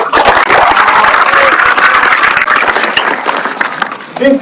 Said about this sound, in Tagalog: Palakpak po natin.